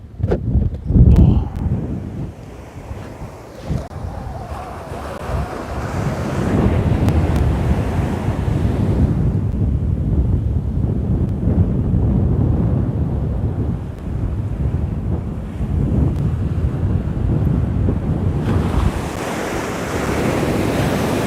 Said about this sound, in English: Now this ocean is really starting to pick up a bit